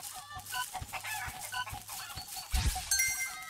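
Chicken clucking in the video game Super Egg Hunt, a stream of rapid clucks and squawks with a crowing note, alongside game sounds and soft thumps, close and moderately loud with no talking.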